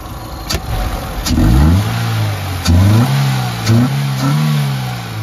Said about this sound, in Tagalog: rev natin ngayon rev natin yung kagabi, rev natin ngayon